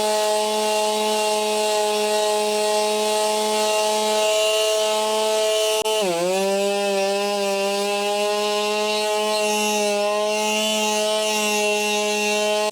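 Electric sander fitted with 80 grit paper running on a wooden staircase during a refurbishment, a steady loud whine with strong tonal hum that dips briefly in pitch midway, then continues unbroken.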